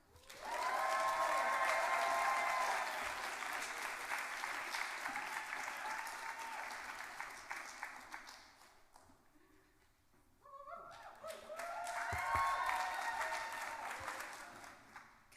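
A literary reading crowd claps for Lars Horn, a full, even round that thins and briefly fades, then swells again while a voice speaks over it.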